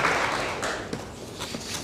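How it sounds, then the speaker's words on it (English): Audience applause at a school district event, a steady wash of clapping that runs throughout and fades slightly toward the end, with a few sharper individual claps standing out. "I think that definitely deserves a round of applause."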